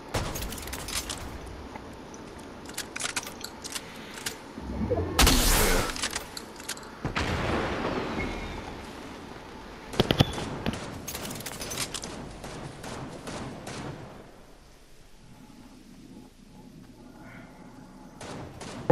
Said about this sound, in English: Shoot one of your fireworks at the build.